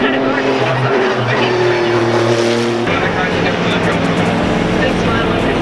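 Race car at the Detroit Grand Prix, a loud continuous engine roar close by that shifts pitch as it passes, with speech mixed in.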